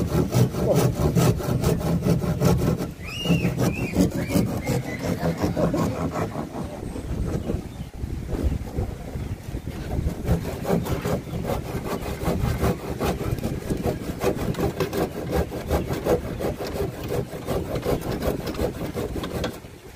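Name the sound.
freshly sharpened hand saw cutting wood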